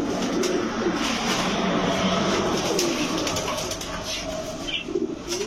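Pakistani racing and Giribaz pigeons cooing in a busy pigeon shop, with steady overlapping coos and rustling at close range over constant background chatter and noise.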